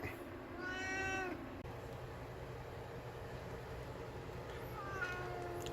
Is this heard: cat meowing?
yes